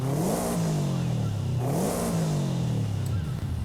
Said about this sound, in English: Another Subaru engine.